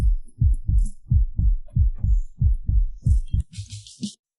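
A heartbeat sound effect pulses in deep, loud, evenly spaced thumps, about nine beats in quick succession, then fades out under a brief burst of bright shimmer.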